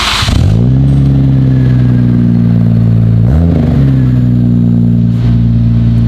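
Lamborghini Urus engine starts with a sharp flare, settles into a deep steady idle, then gives a quick blip of revs before returning to a loud, close rumble, with no voices.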